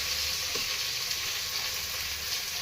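Vegetables and cumin sizzle in hot oil while a spoon stirs them, giving a steady, close frying hiss with a faint scrape of the spoon.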